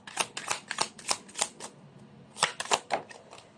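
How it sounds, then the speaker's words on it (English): Tarot cards being shuffled by hand in two rapid riffling bursts of crisp flicks, the second starting after a short pause, close and clear with no talk. "You saw me shuffle."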